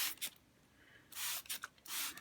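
Several short hissing bursts from a spray paint can, close by, separated by brief quiet pauses.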